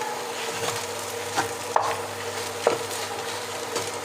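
Spices being stirred into a mashed potato filling for aloo paratha, giving soft scraping and a few sharp taps of a spoon against the pot over a steady low hum, with no talking.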